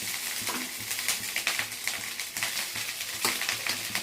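Rice with onion and curry leaves frying in a pan, a loud close sizzle broken by repeated scraping and clinking of a spatula stirring, no voices.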